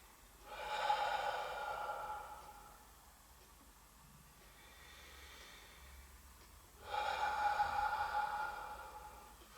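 Slow, deliberate breathing in through the nose and out through the mouth during a gentle exercise session, two long airy breaths with a quieter pause between, close and soft with no talk.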